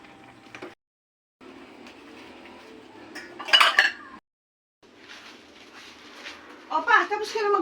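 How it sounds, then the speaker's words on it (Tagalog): Dishes and cutlery clatter and clink during washing at a sink, short bursts of ceramic and metal knocks separated by gaps, with a person talking over parts of it. "tapos ka na maghugas ng pinggan"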